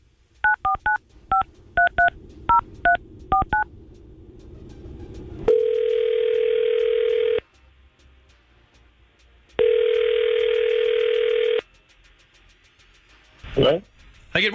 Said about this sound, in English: we're going to try to call Greg and see if we can get him on the phone